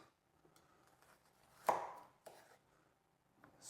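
A knife julienning a carrot on a cutting board makes a few soft, irregular chopping taps, one noticeably sharper than the rest, close by and quiet with no talking.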